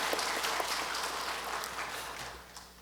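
Church congregation applauding at a special early-morning prayer service, a steady wash of clapping that holds level for a few seconds and then begins to fade, with no talk over it.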